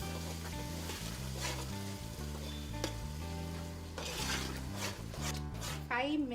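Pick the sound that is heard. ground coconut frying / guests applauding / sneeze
ground coconut frying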